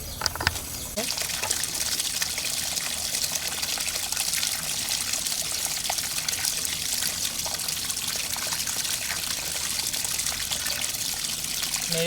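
Steady running water poured over ponnaganti leaves as they are rinsed in a village setting, a continuous broadband splash and trickle lasting throughout with little change in level.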